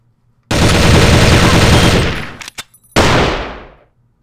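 Loud, close automatic gunfire from the shooter game Crossfire: a sustained burst of rapid rounds, a brief stuttering pause with a few scattered shots, then a second long burst that fades out.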